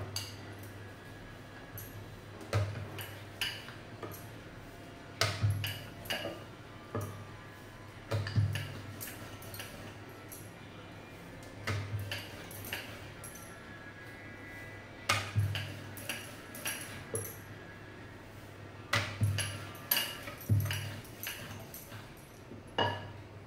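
Rolling out wheat flour and jaggery dough with a rolling pin produces soft, spaced knocks and light clicks of the pin against the board, close and fairly quiet over a low steady hum, with no talking.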